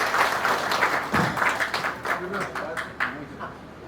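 Audience applause welcoming a guest at a Karunagappally school gathering, a burst of clapping that swells and fades in waves over a few seconds with voices mixed in.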